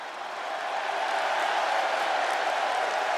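Arena crowd in the WWE 2K26 wrestling video game cheering and applauding, a steady dense roar that swells in the first second and then holds loud and continuous, with no talk over it.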